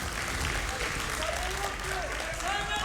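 An esports crowd at a BLAST Premier Counter-Strike event in London applauds and cheers after a win, steady broad clapping under an announcer's voice.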